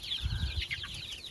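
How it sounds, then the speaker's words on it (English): Young roosters clucking in a flock, soft close calls and brief squawks over a low rumble, faint and alone without any talking. "I have quite a lot of roosters."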